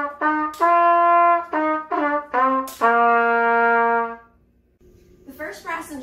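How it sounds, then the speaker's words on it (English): Brass instrument played while pressing valves, a series of clear sustained tones stepping through different pitches with short gaps between notes, close and loud, followed by a softer, brief voice-like passage at the end. "It sounds like this when you play with valves."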